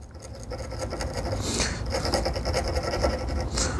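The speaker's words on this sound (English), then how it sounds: "1 inch chisel, but using like half of my chisel or a little bit less." A 1 inch chisel paring wood by hand against a knife wall, a steady close rasping scrape with brief quicker strokes, loud and alone.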